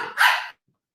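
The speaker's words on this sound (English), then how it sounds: "I apologize for my dog." One sharp dog bark, loud and close, cutting off abruptly into silence.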